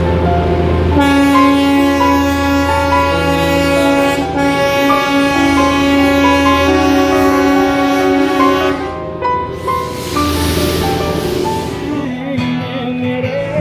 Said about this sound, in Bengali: আজ আমাদের ইটিনারিতে রয়েছে টয় ট্রেন ভ্রমণ